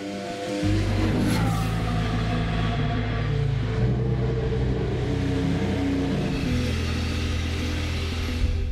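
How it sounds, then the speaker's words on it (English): Toro Rosso STR10 Formula 1 car running in pre-season testing, its engine note loud and sustained, rising and shifting pitch through gear changes from start to finish with no talk. "Max will have to watch as Carlos gets the first ever ride of the STR10."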